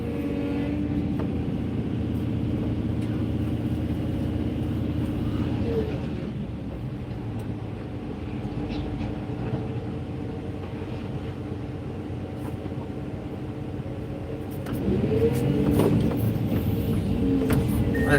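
A skid steer engine runs steadily nearby on a lot cleanup job, a continuous low diesel rumble that dips briefly and then swells louder near the end, with people talking over it.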